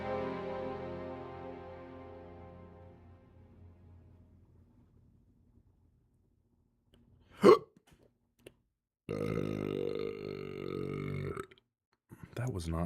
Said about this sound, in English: You fucking burped on my stream.